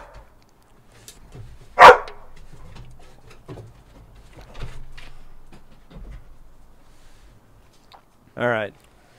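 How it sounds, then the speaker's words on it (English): A dog gives one sharp loud bark early, followed later by a shorter whining yelp, with people talking through the rest of the moment. "This show is now dog training with Mark"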